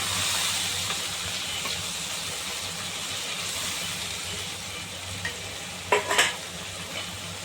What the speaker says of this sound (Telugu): తర్వాత దీంతో ఈ క్లీన్ చేసి పెట్టుకున్న పచ్చి రొయ్యలు వేసి వేసుకోవాలి